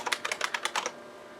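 A quick burst of keystrokes on a computer keyboard entering a DOS copy command, about eight close crisp clicks in under a second, then quiet.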